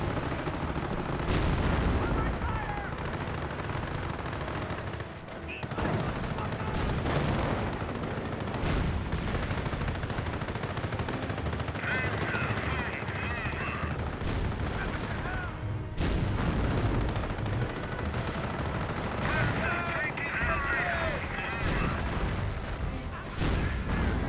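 Battle gunfire from the real-time strategy game Company of Heroes, with rifle shots, machine-gun bursts and artillery booms piling into a dense, loud barrage that continues throughout.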